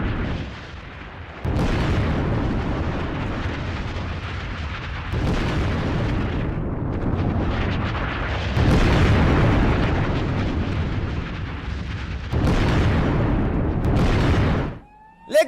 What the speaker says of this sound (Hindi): इस बीच एक बार फिर से आपको हम ये धमाके सुनाते हैं